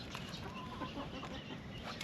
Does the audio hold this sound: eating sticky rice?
no